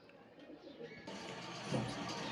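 Pigeons kept for sale coo softly in a loft or cage, low murmuring calls repeating over a faint background hum, with one slightly louder coo near the end.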